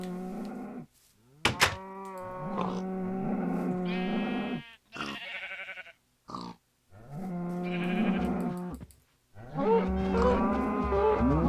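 Cows moo repeatedly in the Minecraft video game. Several long, drawn-out, close calls overlap, with brief pauses between them and no talking.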